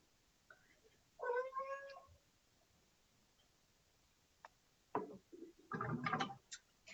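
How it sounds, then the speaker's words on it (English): A pet cat meows indoors at home during a crafting session, giving a short two-part meow near the start and a louder, longer cry near the end, with faint murmurs in between. "you missed Wendell, my cat, he's here"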